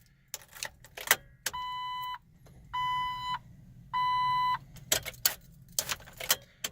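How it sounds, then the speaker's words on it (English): Ignition key repeatedly turned and pulled on a Jeep Wrangler TJ: key clicks and jangling frame three steady, evenly spaced warning chimes, each lasting under a second, recorded close up with no talking. "Basically take the key in and out many times."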